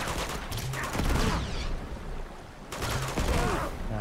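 Sustained bursts of enemy gunfire in the video game Uncharted 2: Among Thieves, dense and rattling across the whole stretch, with a voice talking over parts of it.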